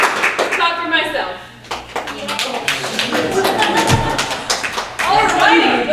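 An audience claps at a short-form improv comedy show in a small theater, applause running throughout, with people talking over it.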